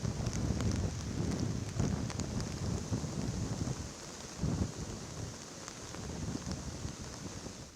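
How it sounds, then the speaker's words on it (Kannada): Heavy monsoon rain pours without a break over Dakshina Kannada near the Western Ghats, a dense steady roar with deep thunder rumbling underneath and gusts buffeting the microphone. "ದಕ್ಷಿಣ ಕನ್ನಡ ಜಿಲ್ಲೆ ಹಾಗೂ ಪಶ್ಚಿಮ ಘಟ್ಟದಲ್ಲಿ ನಿರಂತರವಾಗಿ ಮಳೆ ಸುರಿಯುತ್ತಾ ಇದೆ"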